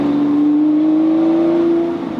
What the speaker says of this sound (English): if I lower the window, you can hear the engine reverberating off the trees